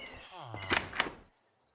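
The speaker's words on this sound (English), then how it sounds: "I was fooled. This is a door." A door opens in the video game Minecraft, a short wooden creak and thunk under a speaking voice, followed by faint high chirping game sounds.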